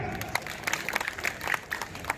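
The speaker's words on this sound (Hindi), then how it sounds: "डॉक्टर शिव सिंह जी के जोरदार तालियां।" A crowd at an election rally gives a brief round of applause, with scattered claps from many hands at a moderate distance and some voices underneath.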